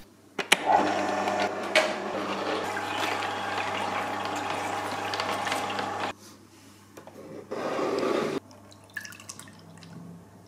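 A BioChef Atlas slow juicer runs in a home kitchen, giving a steady mechanical whir with dripping juice for about six seconds before it cuts off, followed by a few shorter bursts of motor noise.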